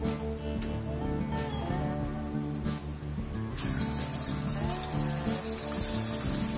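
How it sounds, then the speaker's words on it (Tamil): Small pakodas dropping into hot oil for a pakoda curry, giving a steady bubbling sizzle that grows brighter and denser midway, with faint clinks over a low kitchen hum. "சூடாயிடுச்சு எண்ணெய் இப்போ நம்ம வந்து பக்கோடா சின்ன சின்னதாக போட்டு எடுப்போம்"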